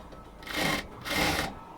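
A sewing machine stitching a blouse runs in two steady bursts of whirring, each close to half a second long, with a brief easing between them. No one speaks.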